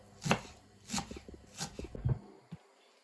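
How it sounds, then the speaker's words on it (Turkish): Four crisp knife strikes chopping onions against a cutting board, evenly spaced, followed by a lighter tap, heard up close with no talking. "Soğanlarımızı yemeklik doğradık."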